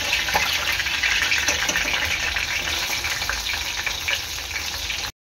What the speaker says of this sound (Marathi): इथे आपलं चिकन तळून झालेलं आहे। आता मी काढून घेते।